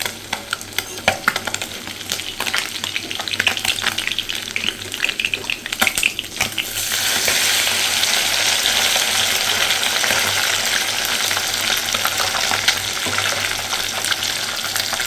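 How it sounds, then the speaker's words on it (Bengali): Small mourola fish deep-frying in a pan give a loud, continuous sizzle and crackle of hot oil, with irregular stirring and turning noises early on before the frying settles into a dense, steady hiss; no talking. "মাছগুলোকে এখানে ভালোভাবে ভেজে নিয়েছি, একটু ডিপ ফ্রাই করেছি।"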